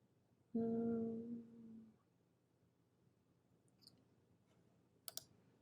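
Two sharp computer mouse clicks land close together near the end, faint and near, while navigating InDesign menus; a short tonal hum sounds earlier, with no talking.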